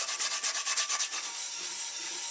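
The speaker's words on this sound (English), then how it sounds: "The back side has got a lot of scaling, so we're going to have to scrub that a lot harder than we do on the inside." A brush scrubs heavy scaling off the back of an old cast iron pan, about a dozen quick rhythmic strokes close up, then a steadier continuous scraping, with no voices.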